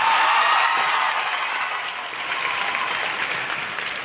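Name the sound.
audience applause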